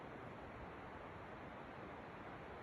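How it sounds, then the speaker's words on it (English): Distant waterfall outdoors in nature, a faint, even, continuous rush of water with no other distinct sounds. "I hear the waterfall in the background."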